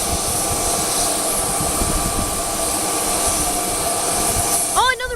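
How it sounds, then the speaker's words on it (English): A plane landing at Aurora Municipal Airport produces a loud, sustained engine roar with a rising whine near the end, heard steadily at close range without talk. "Oh, another plane just landed."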